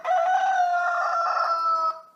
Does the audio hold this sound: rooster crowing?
yes